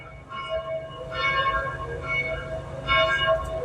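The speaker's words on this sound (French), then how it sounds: "Les cloches, c'est cool." Church bells ring in a loose sequence of resonant strikes, their tones lingering and overlapping against a low background rumble.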